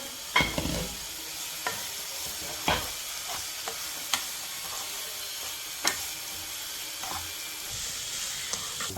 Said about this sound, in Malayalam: നമ്മുടെ പയറും ചെമ്മീനും കൂടെ ഒന്ന് ഇളക്കിയാലോ